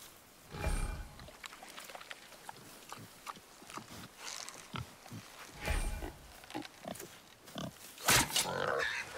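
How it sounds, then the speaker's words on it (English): A wild boar in God of War grunts and snorts in short, scattered bursts, nearby and moderately loud, with rustling and game ambience between the calls. "Wild boar's hide is thick."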